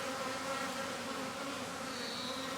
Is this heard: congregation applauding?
no